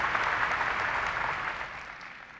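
An auditorium audience at a 1998 bill-signing ceremony for the Central High historic site applauds, a dense steady wash of clapping that slowly fades over a couple of seconds.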